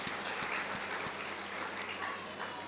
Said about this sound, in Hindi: तालियां होनी चाहिए डॉक्टर साहब के लिए।